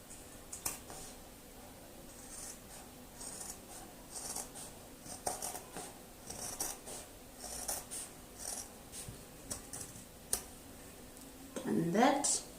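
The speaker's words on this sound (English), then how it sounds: "now I'm just going to cut my denim" Scissors snip through denim fabric in short irregular crunchy cuts, with faint rustling of the cloth and a louder handling sound near the end.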